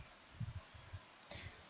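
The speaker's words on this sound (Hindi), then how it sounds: "मैं यहाँ ऐड बटन पे क्लिक करूंगी" A single computer mouse click on an add button in employee module software, a faint, brief tick heard alone in quiet room tone.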